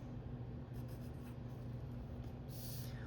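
A pencil or pen writes a name on paper, producing faint, continuous scratching strokes in a quiet room with a low background hum, with a brighter hiss near the end.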